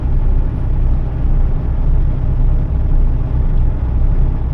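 A car pulling away and driving in search of parking in the Czech Republic, with a steady, loud, close engine and road rumble running unbroken from start to finish.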